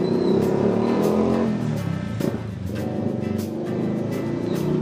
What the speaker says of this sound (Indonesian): Ya ampun, rame banget motor pada lewat.